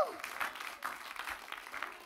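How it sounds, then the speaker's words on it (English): A church congregation claps in praise during a worship service, a busy patter of hands with voices mixed in. "give God a hand clap of praise"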